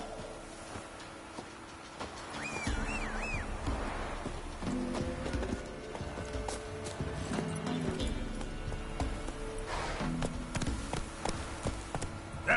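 Roach, the horse in The Witcher III: Wild Hunt Enhanced Edition on PS5, trots along with steady rhythmic hoof clip-clops over a background of game ambience and music.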